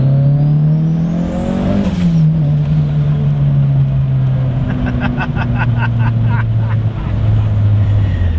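A turbocharged car engine revs up loudly, shifts gear, then pulls hard with a steady droning tone and brief turbo whistles.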